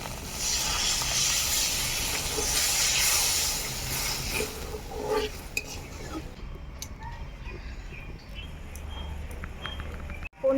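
Water hits sautéed spices in a pan for palak paneer, making a loud hissing sizzle that gradually dies down into quieter bubbling, with a few utensil clinks.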